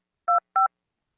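Two short telephone keypad tones sound in quick succession as a number is dialed, clean and close with silence around them.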